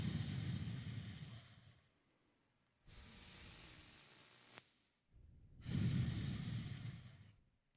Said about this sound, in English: breathe in and out of your nose